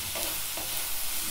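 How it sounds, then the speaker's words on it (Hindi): Chopped vegetables sizzle and fry steadily in a pan while being stirred for pasta, a continuous close hiss with faint scraping, alone with no talk. "अब इसमें हमें डाल देना है सब्जी जो हमने काट के रखा था"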